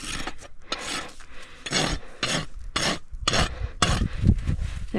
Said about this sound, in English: Using the aggressive side of my rasp because I see it's sticking out a little bit on this